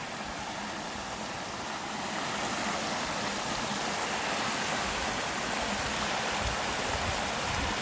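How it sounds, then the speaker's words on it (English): Steady rushing of a creek flowing over rocks at McGalliard Falls Park, a continuous broadband wash that swells slightly louder partway through, with no voices. "You see the water running here"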